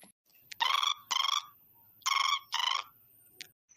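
An electronic ringback tone sounds in two paired bursts of trilling rings with a pause between, fairly quiet and alone, with a couple of faint clicks.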